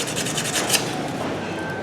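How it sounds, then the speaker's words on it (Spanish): Steady, close rasping of sandpaper rubbed back and forth between the electrodes of a motorcycle spark plug, a continuous gritty scratching sound. "podemos pasar la lija para limpiar el interior"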